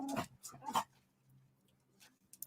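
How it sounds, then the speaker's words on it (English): A pet dog whimpers and yelps in a few short, high, fairly quiet bursts close by, trailing off into near silence before a couple of faint final squeaks. "My dog is thanking you"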